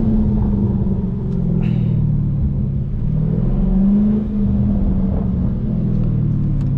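A 2017 Dodge Charger 392 Scat Pack with manual shifting heard from inside, a loud, deep, steady engine rumble that swells slightly in the middle, with a few faint crackles on top.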